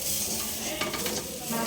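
Khichuri and fried potatoes cook on a home stove, giving a soft, steady sizzle with faint stirring scrapes, quiet and close, with no voices.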